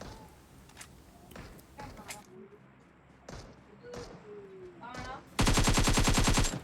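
Gunfire in the mobile battle-royale game PUBG Mobile: scattered single shots and short bursts, then a loud, sustained rapid-fire burst of automatic shots near the end, with faint game sounds between.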